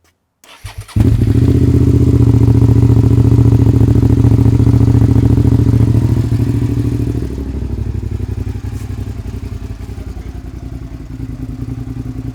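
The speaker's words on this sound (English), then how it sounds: "sounding very fruity indeed with the aftermarket exhaust" A Suzuki SV650S V-twin motorcycle with an aftermarket exhaust starts up and idles loudly and close, a deep throbbing rumble that drops to a lower idle partway through.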